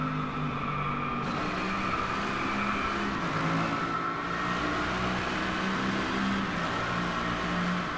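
Mercedes-Benz AMG GT3 race car in the Driveclub racing game, its engine droning steadily and loud for the whole stretch, with shifting harmonic tones as it holds power on track.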